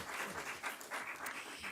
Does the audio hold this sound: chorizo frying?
no